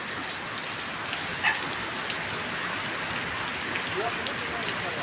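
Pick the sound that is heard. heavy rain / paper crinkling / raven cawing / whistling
heavy rain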